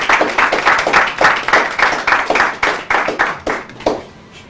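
Rhythmic, even bursts of hand clapping from an audience at a church Bible quiz contest, fairly close and steady, fading toward the end.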